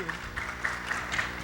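Brief scattered audience applause at a lecture, light clapping in a hall with a voice speaking over it.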